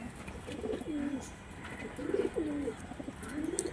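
Chennai breed pigeons cooing in a series of soft, low, rolling coos, three distinct phrases spaced about a second apart over a steady background hiss.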